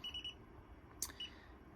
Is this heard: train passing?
no